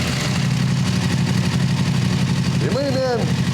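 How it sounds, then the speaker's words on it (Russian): A KTM LC8c motorcycle engine, warmed up, runs at a steady low idle throughout, close and loud, with a brief rising whine near the end as it is started or revved; voices can be heard over it. "Запускаем мотоцикл."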